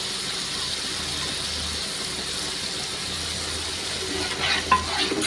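Whisked sour yogurt being stirred into a simmering katla fish kalia curry, a soft continuous sizzle and bubbling with faint scraping and clinks toward the end, close and unaccompanied by talk.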